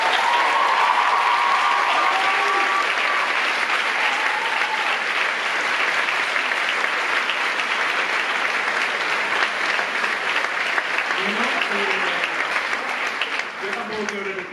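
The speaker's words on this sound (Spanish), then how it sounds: "Así que por favor un aplauso para ellos." Theatre audience at a student musical production of Little Shop of Horrors applauds loudly and continuously, a thick wall of clapping with faint cheers and voices mixed in, fading slightly near the end.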